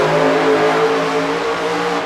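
Exhaust note of a 572ci big block Chevy in a squarebody K5 Blazer, a steady loud rumble with strong low harmonics, close and continuous with no talking.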